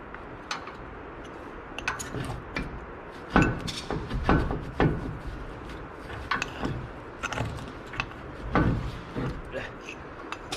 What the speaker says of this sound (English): it's time to remove the calipers out from the bracket